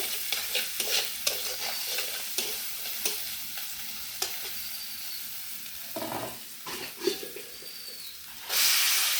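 Turmeric powder and cumin paste being stirred in a hot frying pan, with a constant sizzle under frequent close spatula scrapes and knocks, ending in a louder rush of hissing; no speech.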